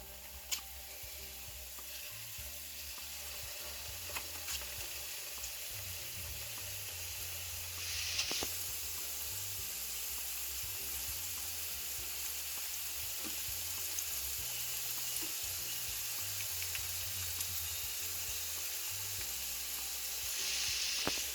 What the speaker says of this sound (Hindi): तेल गरम हो चुका है। अब इसमें डालते हैं रोल्स को।